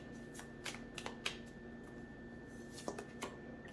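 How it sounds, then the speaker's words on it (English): Tarot cards being shuffled by hand, a run of crisp riffling flicks and soft slaps in uneven bursts, close up and moderately loud, with a faint steady hum underneath and no speech. "I did see this while shuffling."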